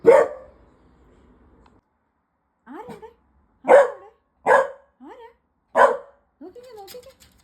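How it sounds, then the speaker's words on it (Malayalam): A dog barks in short separate bursts, fairly close and loud, with quieter voices in the gaps between barks. "അപ്പുറത്ത് എവിടെയോ ഒരു പട്ടി കുരയ്ക്കുന്നതിനാ ആള്."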